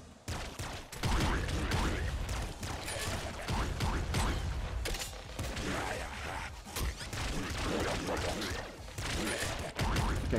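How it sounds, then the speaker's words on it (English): Explosions chain together in the roguelike shooter Nuclear Throne: a dense, loud barrage of booming blasts and crackling mechanical clatter that continues almost without pause for the whole stretch. "Okay, this should be a good explosion chain."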